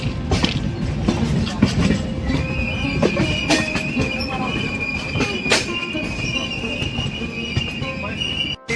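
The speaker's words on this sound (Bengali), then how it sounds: "ট্রেনটা খুব সুন্দর কাপ নিচ্ছে ট্রেনটা দেখো" The Shaktipunj train rolls steadily along the rails near Dhanbad with a continuous rumble, wheel clatter and a sustained high squeal of wheels on a curve.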